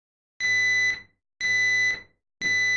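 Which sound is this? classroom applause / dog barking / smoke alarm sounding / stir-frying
smoke alarm sounding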